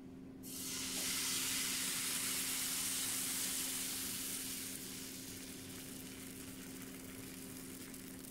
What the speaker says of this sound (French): je vais verser mon appareil à gaufres